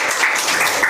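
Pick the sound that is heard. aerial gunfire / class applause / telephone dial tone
class applause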